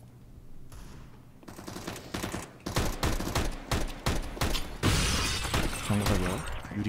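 Glass shatters during a CS:GO competitive match, sharp crashing bursts mixed with rapid gunfire and loud in-game action, dense and close throughout.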